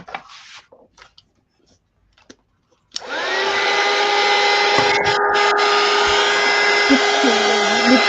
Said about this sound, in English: I'm going to use my heat gun.